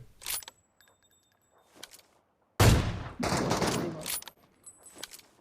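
An AWM sniper rifle in PUBG Mobile fires a sharp, loud single shot followed by a rumbling echo, with a few fainter clicks and handling sounds scattered before and after.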